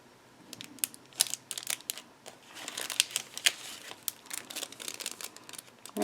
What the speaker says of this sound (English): let me just remove the tape